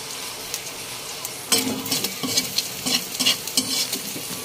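Vegetables stir-fried for homemade pancit canton sizzle steadily in a pan, with a sharp burst of frying and several scraping stirs of a utensil close by.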